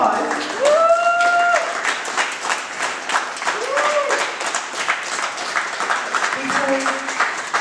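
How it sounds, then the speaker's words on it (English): Guests at a wedding reception clap steadily through the speeches, with whoops and cheers rising above the applause at intervals. The clapping is sustained and fairly close. "I want everybody to give her the biggest round of applause."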